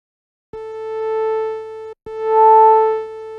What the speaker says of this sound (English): you see I was using a sine wave here